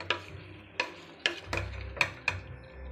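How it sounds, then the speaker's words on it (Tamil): A spoon stirs a mutton biryani mixture with ginger-garlic paste in a cooker pot, six sharp scraping clinks spaced about half a second apart over a low background hum. "நல்லா கிளறி கொடுத்துக்கிடும்."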